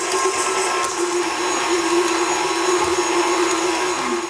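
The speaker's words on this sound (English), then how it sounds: "You probably don't have to use a mixer, but just to make it easy on myself, I'm going to use one today." An electric hand mixer beats butter and brown sugar together, a loud, steady high-pitched motor whine with a constant tone, close by and uninterrupted for several seconds.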